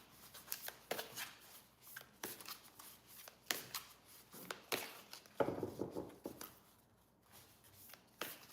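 Oracle cards being shuffled by hand in a quiet room, with repeated soft riffling bursts and brushing flicks at an uneven rhythm, close and fairly faint, with a brief pause late on.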